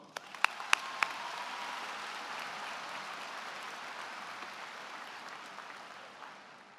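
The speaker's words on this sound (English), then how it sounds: "Let's give them a round of applause." Broad, steady applause from a large audience at a high school class of 2018 graduation ceremony, a few sharp claps standing out at the start before the sound settles into a dense, even wash that fades slightly at the end.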